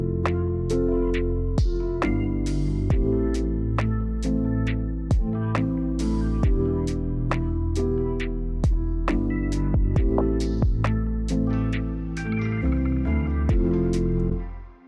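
A lofi Rhodes electric piano plays a melody of repeated plucked notes, each followed by a hand-placed delay echo, steady and bouncing throughout with dynamic note volumes, up close and alone without talk.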